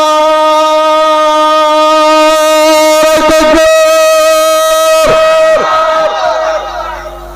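A large crowd answering a preacher's call at a religious gathering, many voices chanting the takbir together, loud and sustained with a strong tonal drone and a few sharper shouts before it tails off.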